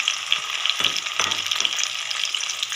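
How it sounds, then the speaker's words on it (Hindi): Okra hits hot oil in a kadai, giving a close, bright sizzle with a few soft clatters of the pan and no talking. "ऑयल गर्म हो चुका है तो इसमें मैं भिंडियाँ ऐड करने लगी"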